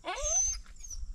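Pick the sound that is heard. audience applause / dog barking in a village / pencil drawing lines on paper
dog barking in a village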